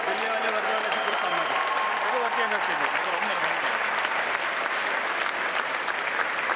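Sustained applause from an audience at a Naturopathy Day celebration, welcoming a team of cyclists on stage; dense, steady clapping fills the whole stretch, with voices and tonal sounds mixed in beneath it early on.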